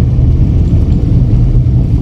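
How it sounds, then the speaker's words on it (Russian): Steady low engine rumble of a vehicle driving along a frozen country road toward a tractor ahead, a continuous deep drone heard from inside the car. "А, трактор это."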